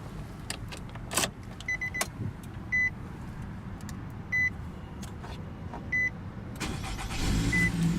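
Soft clicks and a few short electronic beeps come from inside a 2017 Nissan Rogue S with push-button start, then its 2.5-liter four-cylinder engine starts up and settles into a low idle.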